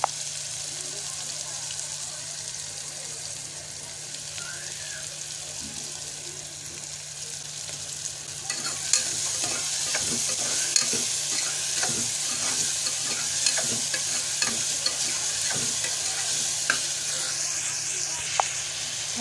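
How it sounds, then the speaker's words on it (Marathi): Onion sautéing in oil with a little salt gives a low sizzle that grows louder about halfway, with frequent clicks and scrapes of a spatula stirring the pan. "मस्त तेलावरती परतून घ्यायचं आहे थोडंसं मीठ घालायचं आहे कांदा"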